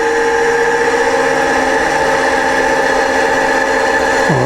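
A model Deltic diesel locomotive's engine sound drones steadily and loudly with layered harmonic hum, close and alone, with a drop in pitch at the very end.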